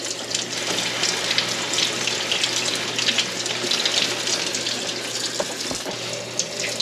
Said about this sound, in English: So the first thing we're going to do is wash them off.